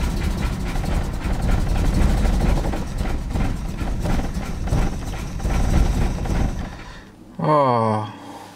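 A junked Chevy Blazer with a 4.3 engine runs roughly and unevenly, rumbling and surging as it fails to hold an idle. A voice talks over it before the engine note shifts near the end.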